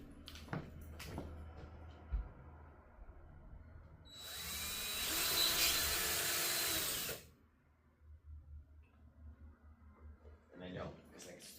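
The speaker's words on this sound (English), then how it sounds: "I'm just going to go ahead and stick a screw in and see if I even have a stud" A power screwdriver drives a screw into a wall while hunting for a stud. One loud burst of whirring lasts about three seconds, with quieter handling noises and low talk before and after it.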